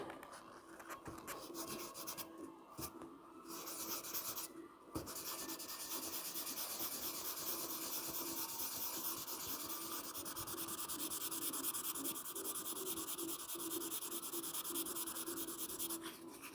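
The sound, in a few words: sanding car paint with sandpaper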